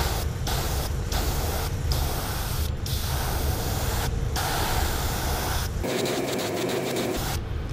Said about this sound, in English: We're gonna spray this pearl blue right down the shoulders.